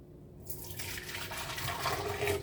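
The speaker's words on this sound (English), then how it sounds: "Now I'm going to pour this into my blender jar." Liquid poured into a blender jar while making a vegan spinach mushroom lasagna sauce, a soft steady splashing stream that starts after a brief pause and keeps running, fairly faint.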